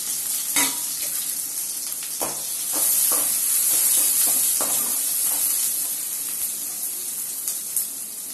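Onions and garlic frying in a kadai, a steady bright sizzle running throughout with a string of spatula scrapes and knocks as the mix is stirred toward golden.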